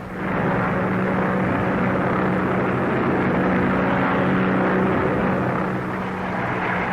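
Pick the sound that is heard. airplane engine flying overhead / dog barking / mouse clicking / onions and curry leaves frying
airplane engine flying overhead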